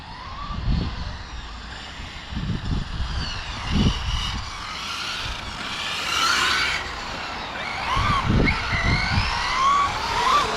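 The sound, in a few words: 16S truck making its first run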